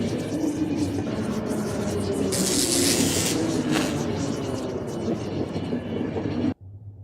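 Train rolling on rails in the video game The Final Station, a steady loud rumble with rhythmic clatter and a brief hiss, cutting off abruptly near the end.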